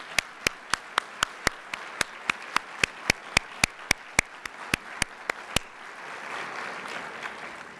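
At a 2011 graduate studies convocation, graduates clap sharp, evenly spaced beats in a slow steady rhythm that ends after about five seconds and gives way to a soft murmuring crowd in a large hall.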